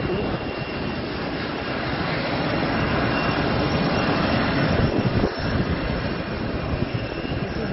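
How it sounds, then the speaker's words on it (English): Steady, loud roar of a SpiceJet passenger jet in flight with its left wing on fire, the engine drone continuous and close throughout without any voices. "The SpiceJet plane wing in flames."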